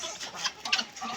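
Roosters give soft, brief clucks and calls on a farm where various poultry are kept, faint against steady background noise.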